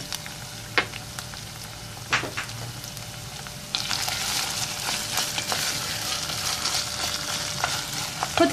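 Tomato paste fries in a pan with black pepper and chili flakes, a close sizzle punctuated by a few sharp utensil knocks, growing louder and denser about halfway through as stirring continues.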